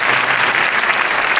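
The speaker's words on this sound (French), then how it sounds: "On l'applaudit super fort." Loud, close audience applause at a hypnosis show in a large arena, a thick continuous roar of many hands clapping with no pauses for the whole moment.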